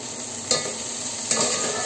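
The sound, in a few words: garlic added to frying tomatoes and stirred in a pan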